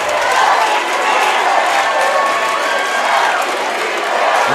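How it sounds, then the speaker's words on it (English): A large crowd at a boys' high school state swimming finals roars and cheers continuously, loud and full, with applause mixed in and no clear single voice standing out. "this crowd is igniting for one of the most exciting races today, the medley relay"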